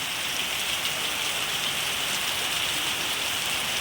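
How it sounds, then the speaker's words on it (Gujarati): Heavy rain pours steadily, a dense continuous hiss of drops drumming on surfaces with no pauses or voices. "ખૂબ જ વરસાદ વરસી રહ્યો છે"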